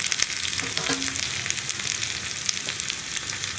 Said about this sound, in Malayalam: ഈ ഉള്ളി ഒന്ന് കളർ ചേഞ്ച് ആയി വരുന്നത് വരെ നമ്മളൊന്ന് ഇളക്കി കൊടുക്കുക.